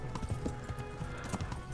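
Horse hooves clip-clop in a quick, steady rhythm while riding in the video game Kingdom Come Deliverance, close and moderately quiet.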